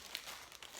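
Brief, faint crinkle of plastic packaging being unwrapped from a Teespring shirt, a soft crackling rustle lasting under a second.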